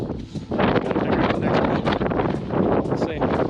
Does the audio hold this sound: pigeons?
no